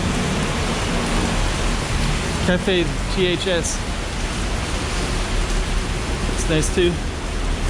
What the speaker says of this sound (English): Oh, the rain's really coming down now.